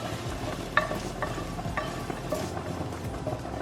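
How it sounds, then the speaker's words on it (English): Onion and garlic sizzle in a hot pan as a utensil stirs them, steady frying hiss with scattered clinks and scrapes, no talking. "I'm going to take my onion and garlic and I'm going to put it in my prepared pan."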